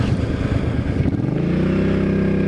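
A Suzuki M50 motorcycle engine revs under the throttle, a loud close rough idle that rises into a steady higher-pitched rev.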